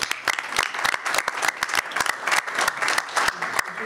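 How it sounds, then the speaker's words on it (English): A crowd at a university board of trustees meeting gives a steady round of applause, dense clapping filling the room throughout. "Let's give a round of applause."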